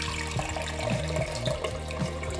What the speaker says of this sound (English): use the other jar that I had with the water in it to kind of start straining out some of this liquid